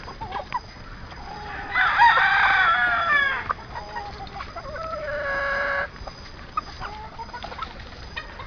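A Lemon 23 gamefowl rooster, street comb, crows loud and close, two drawn-out calls separated by a short pause, with softer clucks and scattered farmyard noises around them.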